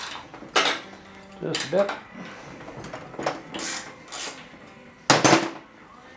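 A 7/16 SAE bolt on a Datsun 520 frame is loosened with a wrench, giving a series of close metallic clanks and ratcheting scrapes in irregular bursts. A voice speaks briefly.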